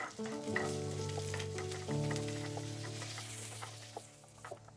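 Dried round red chillies and curry leaves sizzle in oil over a medium flame for chicken Chettinad, stirred continuously, with a steady close crackle over a soft sustained musical tone.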